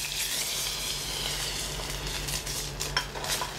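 Duck fillets fry skin side down in very hot oil in a pan, a loud, close, continuous sizzle with crackles and a few sharp pops and light utensil scrapes, no talking.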